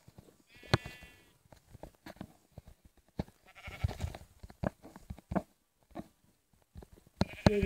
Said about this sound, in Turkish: Koyun buldum.